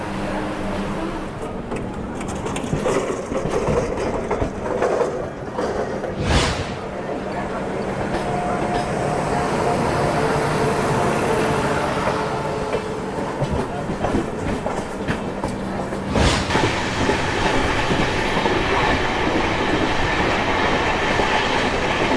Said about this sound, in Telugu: 20 మినిట్స్ లేట్గా ట్రైన్ అయితే స్టార్ట్ అయింది.